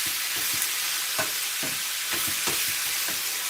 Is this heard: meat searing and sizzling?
yes